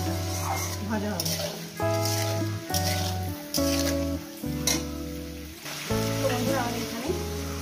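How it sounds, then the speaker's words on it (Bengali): Vegetables for chorchori fry in hot oil with a steady, close sizzle and some stirring. A voice talks over them almost the whole time. "4-5 মিনিট ধরে এটাকে একটা ভাজ, লাল লালটা সুন্দর করে ভেজে নেবেন"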